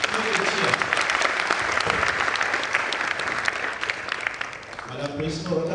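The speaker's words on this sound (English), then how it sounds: "Are we clapping for them?" Audience clapping at a university prize giving ceremony, dense sustained applause from a large crowd filling the room steadily, with a voice talking over it near the end.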